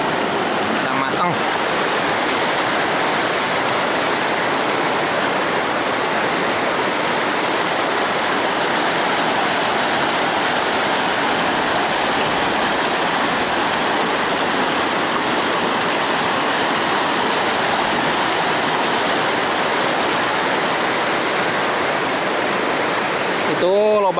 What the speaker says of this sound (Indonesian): air mengalir ke sini ke damnya Cigintung dan damnya sebelah sana ya, dam air